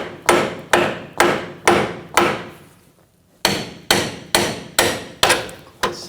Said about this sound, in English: just take a hammer, just give it a tap